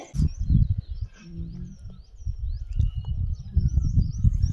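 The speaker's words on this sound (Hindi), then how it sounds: "बिल्कुल पक्षियों का जो है कोलाहल बिल्कुल सुनाई दे रहा होगा, चिड़ियों का" Birds chirp and tweet at a quiet station on the border of the Almora, Nainital and Champawat districts. Short calls are scattered over a low rumbling background, and faint insect-like sounds run beneath them.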